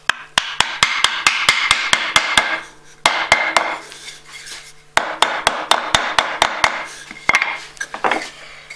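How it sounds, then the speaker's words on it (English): A mallet strikes a chisel in quick, sharp, evenly spaced knocks, coming in several bursts with brief pauses between them, close and loud. "I don't have a hammer, so I'm going to have to use my mallet."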